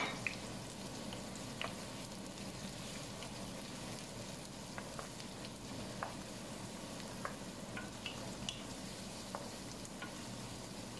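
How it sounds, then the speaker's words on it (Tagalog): Garlic and onions sautéing in hot lard in a home kitchen, a steady close crackling sizzle with scattered sharp pops and spatters throughout, no talking. "Mainit na yung aking manteka. Pwede ko nang ilagay yung aking napakaraming panakot, ahos at sibuyas."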